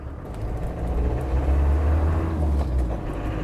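A 1996 Land Rover Defender 90 with a 2.5-liter four-cylinder turbo diesel pulls away, giving a steady, loud low engine rumble that builds slightly and holds, with no talking.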